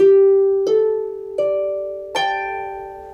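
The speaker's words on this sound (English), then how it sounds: "You're going to be squeezing those strings and then plucking them." Close, clear plucked string notes struck four times, each attack ringing out and stacking with the previous note in a slow sequence.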